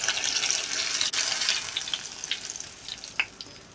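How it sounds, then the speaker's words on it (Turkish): Apples on sticks frying in hot oil, a steady close sizzle and bubbling hiss with occasional sharper pops, gradually easing slightly. "Yine aynı şekilde bakın nar gibi olana kadar kızartalım."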